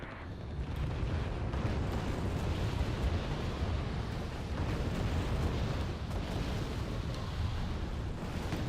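Artillery fire from both sides in the Cold War strategy game Wargame Red Dragon rumbles continuously, a dense wash of distant booming explosions layered into a steady roar with no gaps.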